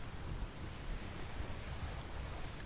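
A ship sails over sea waves in the game ATLAS, with steady rushing surf and wind-like wash that rolls on without a break and no voices.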